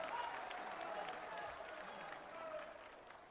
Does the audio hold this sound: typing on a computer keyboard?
no